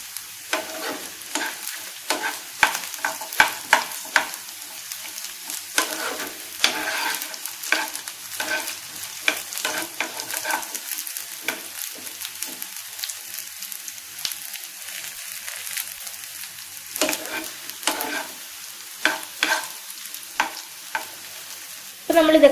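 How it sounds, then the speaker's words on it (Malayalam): Garlic sautéing in a pan for Kerala-style coconut chutney, a continuous sizzle with frequent close stirring scrapes and clacks of a spoon throughout. "അപ്പൊ നമ്മൾ ഇതൊക്കെ നന്നായിട്ട് വഴറ്റിയെടുത്തിട്ടുണ്ട്"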